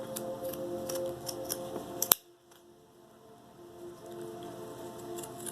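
Scissors snip a zigzag edge into fabric backing on a punch needle ornament, a quick run of close, crisp clicks ending in one sharp cut, then quiet handling.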